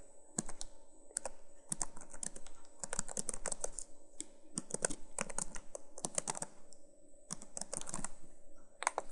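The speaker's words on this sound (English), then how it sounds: "Type in your desired email." Computer keyboard keys tapped in quick bursts with short pauses between them, clear and close, as an email address is entered into a website login form; no one speaks.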